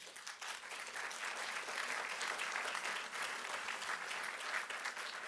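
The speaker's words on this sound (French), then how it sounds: "Vous pouvez l'applaudir parce que c'est un pionnier." Quiet, distant audience applause for a pioneering doctor at a French talk on endobiotherapy and chronic illness, an even patter of many hands sustained throughout.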